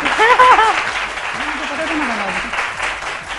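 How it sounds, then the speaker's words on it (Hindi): Studio audience applause on a Pakistani morning show, a steady wash of clapping at moderate level with people talking over it. "तालियां बजा दीजिए"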